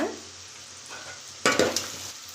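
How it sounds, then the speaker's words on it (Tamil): Onions stirred and sauteing with salt in a pan for a South Indian kulambu, a low sizzle with a louder burst of stirring and scraping midway, no talk. "எல்லாத்தையும் ஒன்றா வதக்கி விட்டுக்கலாங்க வெங்காயம் வதங்கிறதுக்காக நம்ம உப்பு சேர்த்துக்கலாங்க"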